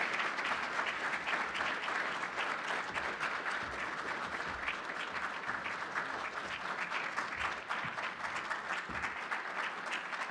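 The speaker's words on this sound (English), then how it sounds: "And let's have a warm round of applause." Warm audience applause at an academic teaching conference for a recipient collecting an award certificate, a full, even roar of clapping from a large crowd sustained for about ten seconds.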